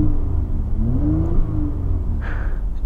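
A Mercedes SLC 43 AMG in Sport Plus mode revs loudly up close: a deep, throaty engine note climbs and swells, then holds a steady rumbling roar with a raspy burst near the end.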